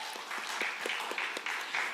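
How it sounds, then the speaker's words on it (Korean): Brief, faint applause from the audience at a Sunday church youth service, a scattering of separate claps over a low room hum, lasting under two seconds. "박수 한 번만 주시죠"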